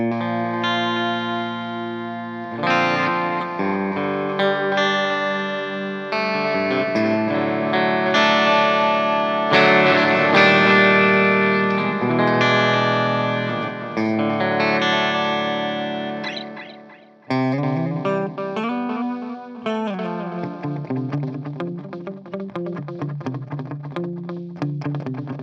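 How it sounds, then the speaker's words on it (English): An electric guitar runs through a Rogue analog delay pedal with the repeat turned up high, playing single-note phrases. Each note trails into echoing repeats that overlap into a continuous, slightly distorted wash for about twenty-five seconds. "I find it's actually a little bit easier to kind of hear the delay coming through whenever you're doing a lot of single note stuff."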